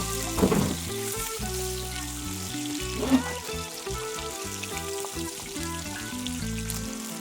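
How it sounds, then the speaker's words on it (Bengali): Tilapia fish frying in hot mustard oil, a steady dense crackling sizzle held close throughout, with a couple of louder pops from shifting pieces and no voices. "তেলটা গরম হয়ে যেতে তেলাপিয়া মাছগুলো দিয়ে দিচ্ছি ভেজে নেওয়ার জন্য"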